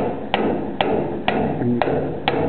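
A hammer taps a wedge onto the dog of a watertight bulkhead, five sharp metallic strikes spaced about half a second apart, close and crisp over a steady background hum.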